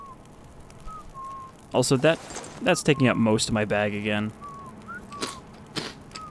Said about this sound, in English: Oh no, the dreaded whistling.